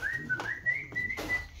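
A person whistles a short, clear tune, a sustained wavering note that slides up and down, close and alone with brief breathy pauses between phrases.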